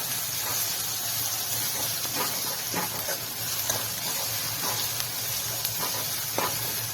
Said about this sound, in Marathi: लसूण परतवून घ्यायचा